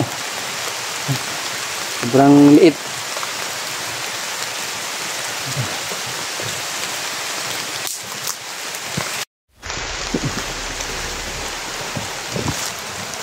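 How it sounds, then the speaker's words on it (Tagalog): Heavy rain pours down in a steady, dense hiss throughout, with a brief voice speaking near the start and a short dropout partway through. "Sabi sobrang lakas ang ulan mga tol."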